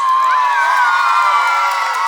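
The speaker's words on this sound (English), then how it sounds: "So students, are you all ready to cheer your teachers?" A crowd of school students cheers and whoops for their teachers' Dandiya dance at a Dussehra celebration, a loud, sustained, shrill wash of young voices throughout.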